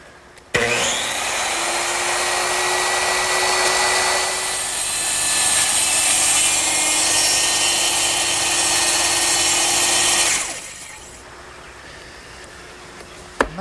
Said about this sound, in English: I'm going to make a plunge cut, which means I'm going to lower the blade through the work and carefully go along the line